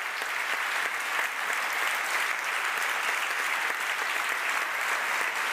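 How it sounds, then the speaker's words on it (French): At an economic forum an audience gives a sustained round of applause, even and continuous clapping from a sizeable crowd, fairly loud and unbroken from start to finish. "Là, un dernier tonnerre d'applaudissements pour Liane Chenot."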